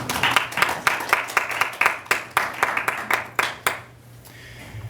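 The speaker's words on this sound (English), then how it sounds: "can we get a round of applause for Alex and the hard work he's done?" An audience at a SciPy tutorial claps for several seconds with sharp, fairly sparse hand claps that gradually thin out and stop, leaving quiet room tone.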